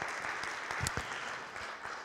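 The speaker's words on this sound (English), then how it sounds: "We'll give them a round of applause as well." A room full of people at an annual congregational meeting claps in a dense, moderately distant round of applause, steady for the whole short stretch with no voices over it.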